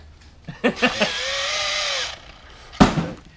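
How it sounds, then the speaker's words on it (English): A power drill setting a rivet nut whirs steadily for about a second and a half after a few short revs, then one more brief burst follows. "I can't hear you over the fact that your drill is still stuck"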